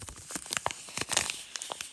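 Close, sharp crinkling and tearing of a thin packet, in quick irregular bursts.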